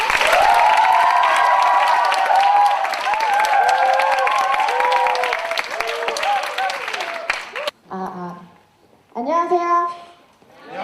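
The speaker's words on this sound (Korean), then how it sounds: "큰 박수로 맞이해 주시기 바랍니다" A large audience applauds and cheers to welcome the first team at a 2012 university student presentation competition, the dense crowd noise lasting several seconds before breaking off into a single speaking voice.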